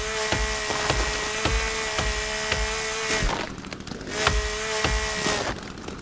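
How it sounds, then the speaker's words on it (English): A chainsaw cutting down trees in the video game The Forest, a loud steady engine whine with repeated rhythmic chopping impacts, close and continuous. "I suggest using the chainsaw. It is a lot faster."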